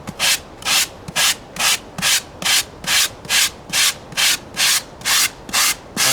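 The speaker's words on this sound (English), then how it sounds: "So I first start out with this 60 grit." Spackled styrofoam is sanded with 60 grit sandpaper in regular back-and-forth strokes, about a dozen close, loud rasping passes at a steady rhythm, with no voices.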